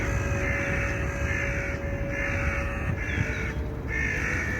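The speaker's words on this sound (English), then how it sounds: "noisy bloody birds" Crows caw loudly and close by in a run of harsh, repeated calls with short gaps between them, standing alone without any talk.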